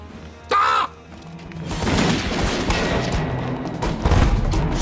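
Battle gunfire in a TV war drama: after a brief sharp burst, a dense rolling fusillade of shots and booms builds and carries on loud and chaotic to the end.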